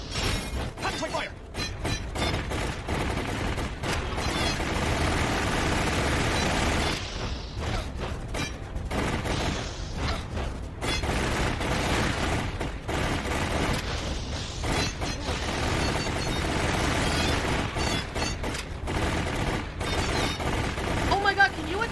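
Gunfire from the video game Resident Evil Darkside Chronicles, a dense, continuous stream of shots and mechanical clatter mixed with game sound effects, with a person talking over much of it.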